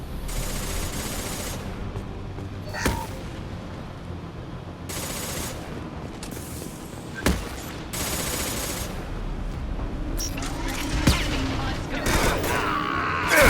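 Gunfire in the Mass Effect game, bursts of shots and sharp single cracks scattered irregularly over a busy combat soundscape, with booms and mechanical noises and dense activity building toward the end.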